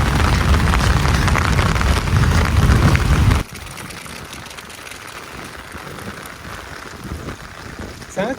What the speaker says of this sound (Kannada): ಇದೀಗ ಮಳೆ